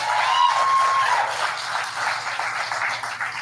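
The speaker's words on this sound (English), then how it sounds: "Please, a round of applause for the two of them." Live audience at a comedy newscast show in Salt Lake City applauding: a burst of clapping that swells early, then eases into a steady, moderately loud patter that carries on to the end.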